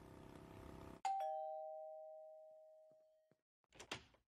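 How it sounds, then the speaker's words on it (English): A doorbell gives a single loud chime that rings out and slowly decays over a couple of seconds, followed by a quieter thump or knock near the end; an animated cartoon setting. "I'm being a rascal and ringing people's doorbells and running away"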